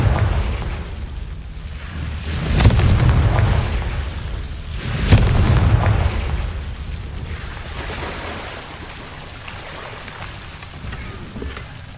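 Casting the Confringo blasting curse in Hogwarts Legacy sets off two booming explosions a couple of seconds apart, each a low rumbling burst with a crackling tail, followed by fading debris-like hiss.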